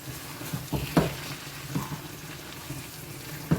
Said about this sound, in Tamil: போட்டு கிளறி விட்டுறோம்